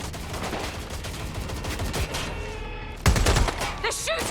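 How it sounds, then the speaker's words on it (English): Rapid gunfire bursts from the video game Watch Dogs Legion, a steady fusillade of overlapping shots with a heavier, louder volley kicking in near the end, set against game music and effects. "They're shooting!"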